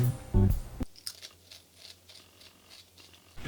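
Close crunching and chewing of a Lay's Funyun-flavored potato chip, with a few crisp bites followed by quieter, irregular mastication sounds and no talking.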